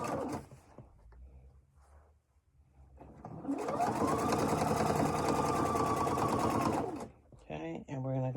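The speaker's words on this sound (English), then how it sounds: "Okay, we'll back stitch." A sewing machine back stitches quilt binding on a composition book cover, a brief pause and faint handling first, then a loud steady whir of rapid stitching for several seconds that stops cleanly.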